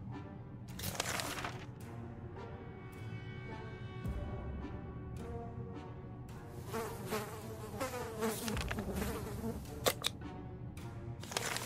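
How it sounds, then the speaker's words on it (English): Buzzing from a hive of mutated insects in a video game, a steady droning hum with brief sharper clicks and whirs over it, moderately quiet, with no talking. "when you shine your flashlight on a hive of mutated insects"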